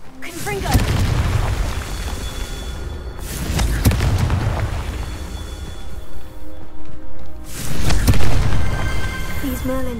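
Confringo fire spells from Hogwarts Legacy go off as several heavy booming explosions, loud and near, each with a rumbling tail, spaced a few seconds apart over game sound and occasional voices.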